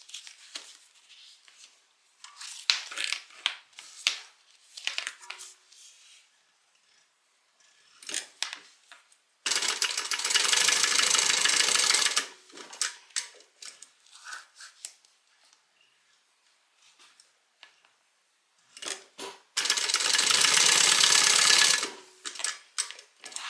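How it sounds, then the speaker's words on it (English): A sewing machine top stitches down each side of a bag seam in two loud, sustained runs of a few seconds each, separated by quieter clicks and handling noises of fabric and tools, with no talking. "Top stitch from the right side down each side of the seam."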